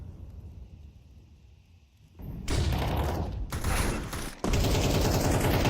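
Sustained AK rifle fire in a competitive tactical shooter match, starting abruptly after a quiet lead-in and rattling loud and dense for several seconds with a brief break before a final burst.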